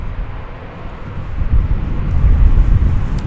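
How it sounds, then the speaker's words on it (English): Airplanes move at DFW Airport, heard as a broad low rumble of distant jet engines with wind noise, growing gradually louder toward the end. "Planes coming and going across the bridge to the east side."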